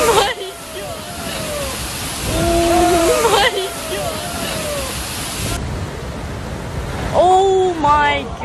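Large high-tide sea waves surge and crash onto the shore of Hawaii, a broad, loud roar of surf and sloshing water with repeated swells, while people's voices rise over it and shout near the end.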